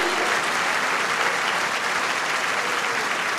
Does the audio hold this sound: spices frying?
no